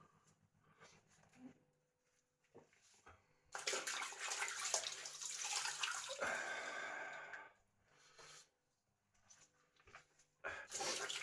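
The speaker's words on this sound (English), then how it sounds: "I'm going to rinse it off" Running water rinses a razor after a mint shave with Stirling Soap, coming as a loud, steady splashing gush that starts partway in, pauses briefly, then returns, with quieter handling sounds around it.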